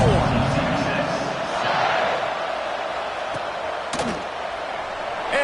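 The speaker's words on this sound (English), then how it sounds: "this crowd is buzzing after that last score" A stadium crowd in the NCAA 26 college football video game keeps up a loud, steady roar throughout, with swells of cheering and a sharp burst near the end, under continuous commentary.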